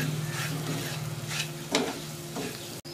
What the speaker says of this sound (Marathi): आता याला परतून घेऊ.